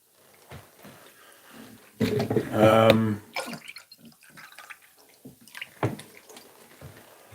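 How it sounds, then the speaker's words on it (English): A person drinks water, producing a brief burst of gulping and liquid sounds close to the microphone, set between quieter moments of low background noise. "Drinking water."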